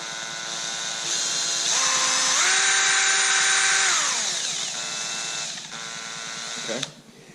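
Variable-speed trigger on a handheld power drill: the motor whirs up, its pitch rising as the trigger is squeezed, holds a high steady whine, then winds down to a lower idle before stopping with a short clatter, close by.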